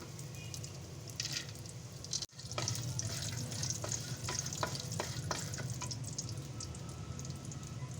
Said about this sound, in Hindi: इस घी में इनको मैं हल्का सा फ्राई कर लूँगी ताकि इनमें से नमी जो है वो निकल जाए